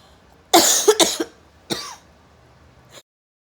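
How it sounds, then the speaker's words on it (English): Two harsh coughs in quick succession, followed a moment later by a third shorter cough, close and loud against near silence. "cough almost took me out"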